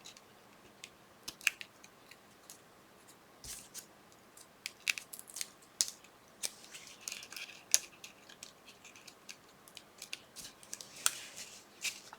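Scissors snip apart paper pieces for a Christmas scrapbook folio, giving quiet, irregular crisp cuts and rustles spread over a faint room background.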